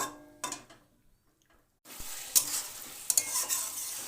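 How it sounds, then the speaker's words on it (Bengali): Brinjal curry bubbles and sizzles in a pan over medium heat, with a few stirring scrapes at the start, a short quiet pause, then a dense, close, continuous sizzle with sharp spattering crackles. "তিন চার মিনিট ফুটিয়ে নেব মিডিয়াম আঁচে রেখে"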